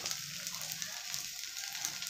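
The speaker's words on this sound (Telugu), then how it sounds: "కొద్దిసేపు బాగా కాలనియండి, ఎందుకంటే ఈ ఉల్లిపాయ ముక్కలు బాగా ఉడికిపోతాయి." Onion pieces fry in a hot pan with a steady, close sizzle that holds evenly from start to finish, with no other sound over it.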